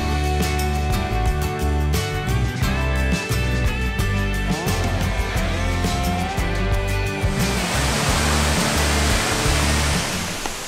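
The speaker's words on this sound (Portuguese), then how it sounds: "Essa é a Cachoeira das Orquídeas" Music plays for several seconds, then gives way to the loud, steady roar of rushing falling water at the Cachoeira das Orquídeas waterfall in a canyon, Ibicoara, Chapada Diamantina, Brazil.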